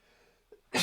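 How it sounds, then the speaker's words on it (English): A single human sneeze bursts out loud and close at the end, preceded by a faint catch of breath in an otherwise quiet room. "Then, I'm gonna sneeze."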